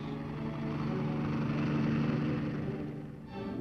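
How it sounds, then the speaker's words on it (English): An H-13 reconnaissance helicopter from 1950s US Army aviation drones with a steady, buzzing piston-engine hum that holds level, dips briefly and then picks up again. "the H-13, a mosquito-like helicopter used for reconnaissance"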